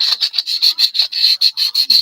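Hand sanding of a model car body with 400 grit sandpaper: about a dozen quick, even back-and-forth scratchy strokes, close and fairly loud, with no talk.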